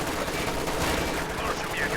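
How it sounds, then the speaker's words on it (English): Machine gun fire in the World War II strategy game Company of Heroes 2, a dense, continuous rattle of gunfire under steady battle noise with no break. "my other machine gun right here is doing a decent amount of damage"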